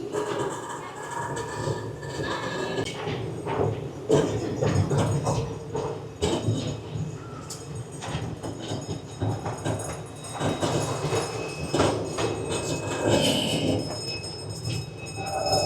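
Small zoo train cars at San Antonio Zoo clatter along the rails with rhythmic clacks and bumps over a steady rolling rumble, moderately loud and close.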